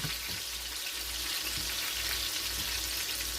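Dry chicken pieces searing in a hot pan without oil, giving a loud, continuous close sizzle and crackle with no pauses and no voices.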